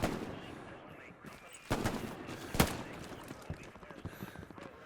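Two sharp gunshots ring out in Hell Let Loose, loud and close, about a second apart, with fainter distant battlefield firing and rumble underneath.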